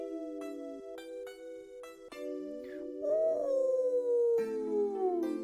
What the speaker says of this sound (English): Ooh, he's crying.